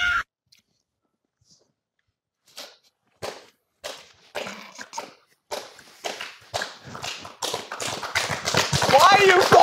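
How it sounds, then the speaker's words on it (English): Hands clap sparsely at first, then the claps come faster and louder until they build into rapid, close clapping joined by excited voices. "Why are you clapping?"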